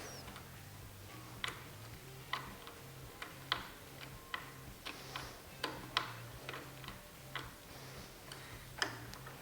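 A part being tightened down on a Ryobi 10-inch 15-amp RTS11 table saw, a quiet series of small sharp ticking clicks at a loose, uneven rhythm, close and faint, no talking.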